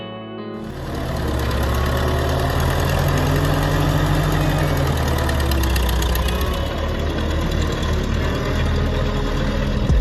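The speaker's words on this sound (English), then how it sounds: "Oliver OC3 crawler tractor." An Oliver OC3 crawler tractor, built by Oliver Farm Equipment Company in the 1950s, idles loudly and close by. Its engine catches after a brief quiet start, then settles into a steady, rapid, knocking chug.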